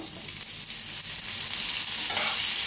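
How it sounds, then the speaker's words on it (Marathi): Continuous dry scraping and rustling of ginger pieces and tomato being stirred and dry-roasted in a hot pan, steady and close, with no talking. "टमाटो बी कापून घेतलेलं भाजून घेऊया।"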